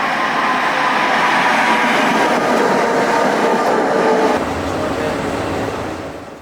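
A tram rolls past on a Prague street, its loud steady rumble and rail clatter filling the air before easing away near the end.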